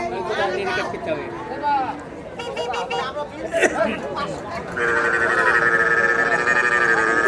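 Busy outdoor cattle and buffalo market din in Rajshahi, with crowd chatter and animal calls mixed in, ending in a steady loud drone of voices and livestock.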